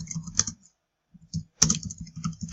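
Keys clatter on a computer keyboard in short bursts, with a brief pause midway, close and clear with no talking.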